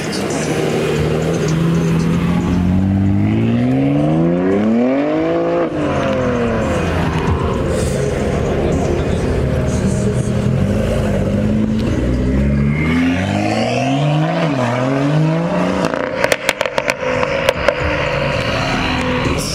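A tuned sports car engine revs repeatedly in rising and falling sweeps, loud and close, with crackles and pops from the exhaust toward the end.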